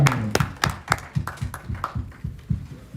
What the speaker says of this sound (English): Please have a clap for him.